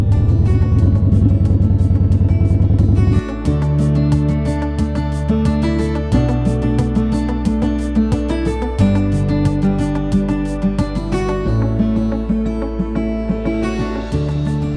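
Motorcycle engine droning loud and close while riding a rough paved road with gravel on the way to a campsite during fall motocamping in the Berkshires, a steady rumble with shifts in pitch and some wind buffeting.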